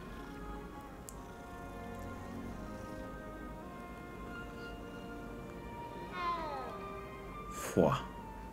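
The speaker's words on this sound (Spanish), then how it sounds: "¡Un gato!" A cat in the Hogwarts Legacy video game gives a single rising and falling meow near the end, over soft rain-like game ambience, with a shorter call just before it.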